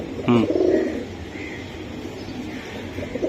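Racing Giribaz pigeons cooing up close, a short burst of throaty coos near the start followed by softer murmuring, with faint room noise and no talk.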